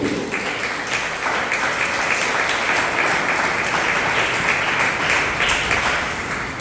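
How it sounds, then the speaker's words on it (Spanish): Applause from a congregation at a Spanish-language evangelistic church service: a dense, steady wash of many hands clapping at once, loud and sustained for several seconds with no talking over it. "Dale un fuerte aplauso a Jesús."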